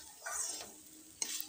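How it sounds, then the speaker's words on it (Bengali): Flat green beans (shim) fry in a pan while being stirred, a brief hissing sizzle with a couple of scraping strokes that ends in a sharper clack, all fairly soft and without speech. "দেখো শিমটা অনেকটা ভাজা ভাজা হয়ে গেছে"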